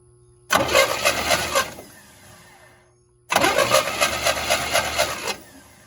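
A 1969 Pontiac GTO barn find engine is cranked twice by the starter, each burst a rapid rhythmic chugging lasting over a second, separated by a short quiet pause, close and loud, without firing.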